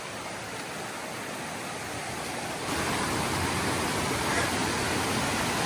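A waterfall rushes in a continuous broadband roar along a wet, rocky mountain trail, steady and close, swelling louder midway as the hiker moves nearer the falling water.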